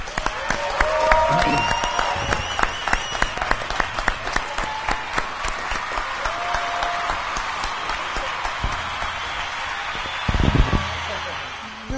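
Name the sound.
audience applause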